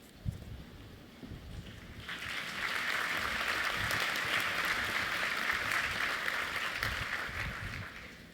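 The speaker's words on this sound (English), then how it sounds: "I always worry when people clap before you've said anything." Applause from a large audience at a convocation swells and holds steady for several seconds, a dense wash of clapping after a brief quieter stretch.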